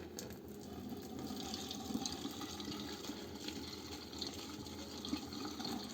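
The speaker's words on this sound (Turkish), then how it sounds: "Hep buradan döküyoruz suyu." Water pours steadily down a sink drain to clean it, a soft, continuous splashing rush at moderate distance with faint trickles and no voices.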